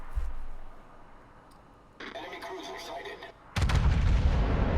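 Yamato battleship main guns fire a salvo in World of Warships, heard as a sudden loud, heavy boom near the end that rolls on, after quieter ambient rumble and mechanical noise.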